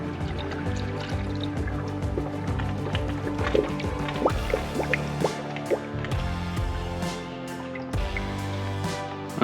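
Distilled water gravity-fed from a one-gallon jug into the cooling system of a 5.3 LS engine with an LSA supercharger, a steady run of glugs, drips and splashes close by with no talk.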